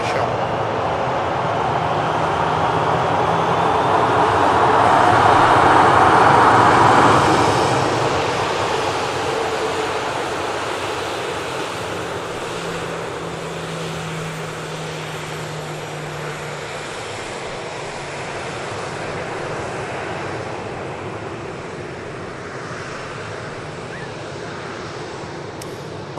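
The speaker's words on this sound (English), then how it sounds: "Sun Express taxis past us at the incredible runway visit park" A SunExpress airliner taxis past at Manchester Airport's runway visitor park, its jet engines a broad steady roar that swells and fades as it passes, with a low hum underneath and wind noise throughout.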